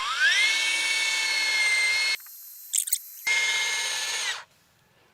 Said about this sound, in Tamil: ட்ரில்லே போட முடியல. அவ்வளவு ஹார்டா இருக்குல்ல.